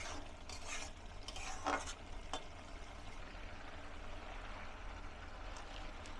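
Lentils (masoor dal) are stirred in a pan, with steady low sizzling and bubbling and a few scraping clicks from the spoon, close and moderately quiet, with no talking.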